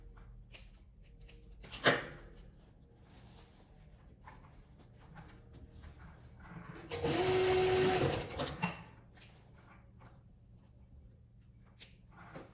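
A sewing machine runs in one steady burst of rapid stitching for about a second and a half, fastening the zipper on a cylinder-shaped cosmetic bag. It follows a single earlier knock over a quiet, humming room.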